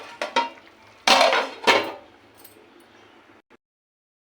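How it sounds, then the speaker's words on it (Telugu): A metal lid is set back onto a pot of fish curry with curry leaves and green chillies, making a few sharp clanks and knocks close by, followed by a faint simmering hiss that drops to silence. "మళ్ళీ మూత పెట్టేసుకోవాలి."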